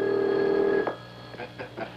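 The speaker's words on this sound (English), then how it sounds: "the phone should be ringing about now" A telephone line carries a steady whistled tone that cuts off, then short buzzy telephone ring bursts repeat at intervals, fairly faint and without talk.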